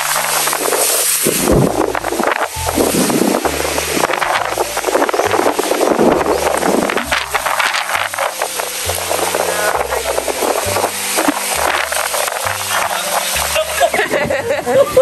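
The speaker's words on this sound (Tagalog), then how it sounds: "Lakas po ng hangin." Strong wind roars and buffets the microphone continuously, with rumbling gusts and flapping noise close by.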